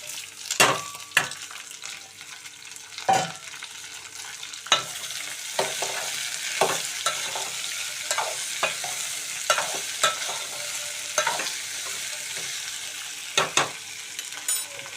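Round-cut ivy gourd slices hit a pan of fried onions and green chilies in hot oil, giving a bright continuous sizzle with repeated spatula scrapes and knocks against the pan, close up and without talk.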